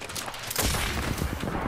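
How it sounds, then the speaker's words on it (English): Gunfire in the video game Apex Legends, aimed down a narrow alley, comes as a dense burst of rapid shots that fills the clip at moderate loudness with no talk. "Perfect, straight into my gunfire."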